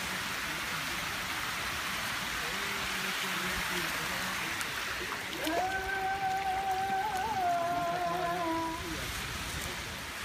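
The waterfall at Pamukkale's travertine terraces sends up a steady broadband rush of falling water throughout, while a voice sounds briefly over it midway.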